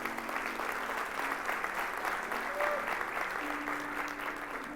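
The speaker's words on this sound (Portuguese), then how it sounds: "Você pode dar um aplauso ao Senhor por isso?" A church congregation applauds during an Easter service, a steady, dense round of clapping throughout with a faint voice or tone briefly audible beneath it.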